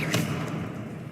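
A Confringo spell is cast in Hogwarts Legacy, a short whooshing blast with a quick thump near the start that fades over about a second, loud and close.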